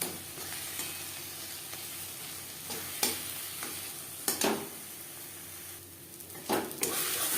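Taro leaf paste with chilli frying and stirred in a pan on a high flame, a steady soft sizzle with a few intermittent scraping strokes, close and moderately quiet.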